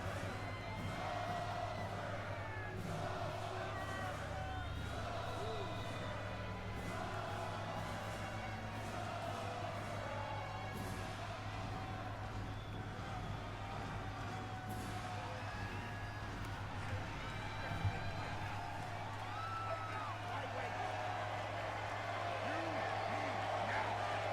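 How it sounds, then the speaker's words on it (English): Wrestling crowd at WWE Raw roaring for Goldberg, a dense arena din of cheering and chanting that holds steady throughout beneath someone talking over it. "This crowd's erupted for Goldberg."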